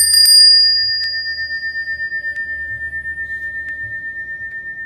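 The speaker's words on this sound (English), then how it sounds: "And here we go with my Bali bell." A Bali bell struck once in a quiet room, leaving a clear, high metallic tone that rings on and slowly fades over several seconds, with faint pulsing in the decay and no voices.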